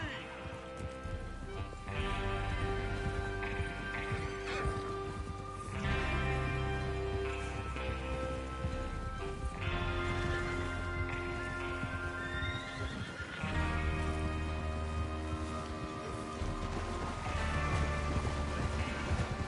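Horses in Red Dead Redemption 2 neigh and whinny repeatedly amid clopping hooves and a dense, noisy soundscape, with voices mixed in.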